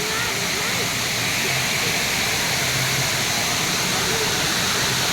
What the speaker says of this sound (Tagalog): Ito yung spillway, no?